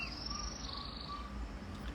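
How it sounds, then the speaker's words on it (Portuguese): Birds sing in a forest of very tall trees at early morning, thin high chirps and whistled calls drifting faintly over a soft, steady background hum. "ouvindo o barulho do cantar dos pássaros"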